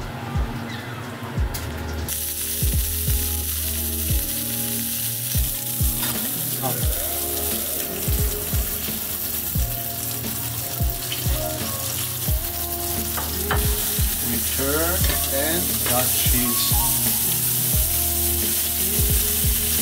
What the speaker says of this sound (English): Time to fry the fries.